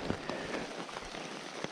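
Rain falls steadily in a forest while mushrooms are being picked, a soft, constant patter with scattered close drop impacts and no talking.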